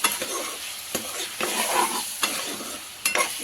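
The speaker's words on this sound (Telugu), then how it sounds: "ఇప్పుడు బీనీస్ వేసేసుకోవాలి." Thinly cut beans are tipped into a hot pan for a beans, potato and tomato curry, frying with a steady sizzle while a spoon scrapes and stirs in repeated strokes.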